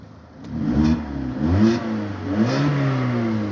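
The 1.4 MPI engine of a 2009 Volkswagen Polo automatic is blipped three times in succession, each rev rising and falling smoothly, heard close with no voices.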